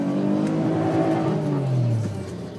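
A Saab car engine revs hard toward the red line and then drops back, loud and close with a rising, sustained tone and no talking.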